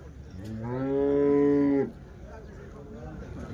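A single long, loud cow moo at a weekly cattle market in Chintamani, Chikkaballapur district, Karnataka, swelling for about a second before cutting off, with faint market background noise afterward.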